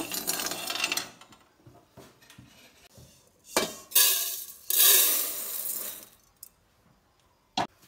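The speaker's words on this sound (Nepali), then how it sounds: "मैले चाहिँ चामल यतिको रातो हुनेसम्म भुट्छु" Rice dry-roasting in a pan for a toddler's porridge, with scraping, clattering spatula strokes and a few bright metallic knocks, loud and close, coming in bursts with quieter gaps and no talk.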